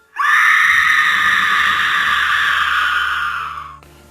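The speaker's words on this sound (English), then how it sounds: "she hears a loud scream" A loud, shrill scream sound effect in a ghost story rings out alone for several seconds, sustained and piercing, before breaking off abruptly.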